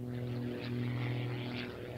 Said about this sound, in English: Hear that little, well, I say little, flat six Lycoming engine